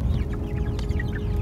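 Chicks clucking and peeping in a coop on their first day, quick high chirps over a dense, close, continuous background of clucking fowl.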